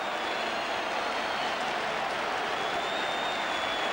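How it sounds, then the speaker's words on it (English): A cricket crowd at a 1981 World Series Cup one-day match boos after the underarm final ball, a dense, steady roar of many voices filling the whole stretch at an even level. "the crowd boo"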